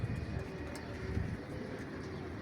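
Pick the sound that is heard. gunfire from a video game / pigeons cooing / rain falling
pigeons cooing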